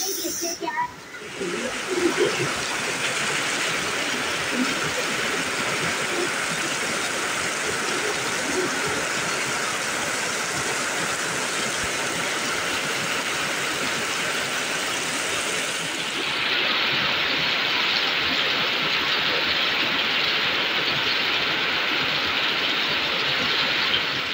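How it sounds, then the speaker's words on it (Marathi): Dense, constant hiss of heavy rain pouring down without a break, loud and steady, growing slightly brighter toward the end. "आणि हा पाऊस"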